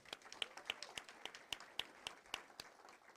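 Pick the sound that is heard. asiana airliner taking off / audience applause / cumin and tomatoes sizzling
audience applause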